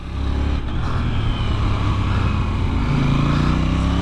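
A 2024 KTM 990 Duke motorcycle being ridden, its engine a steady loud drone that swells slightly as the throttle opens, close and continuous with no talk.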